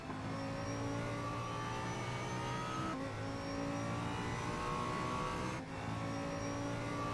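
Audi 5.2 liter V10 engine in a racing video game, at Suzuka, with a loud, steady high-revving drone that holds through gear changes, with brief dips near the middle and end, no talk.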